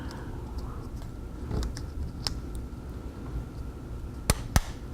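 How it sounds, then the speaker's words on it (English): A speaker connector snaps into place inside a disassembled Samsung Galaxy Tab 4 8.0 (SM-T337A), heard as two sharp, close clicks near the end over faint handling noise. "plug it in, and that's it. You'll kind of hear it click."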